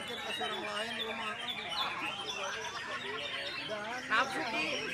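A songbird at a bird singing competition pours out rapid, varied chirps and warbling trills, steady and bright throughout, while people chatter in the background.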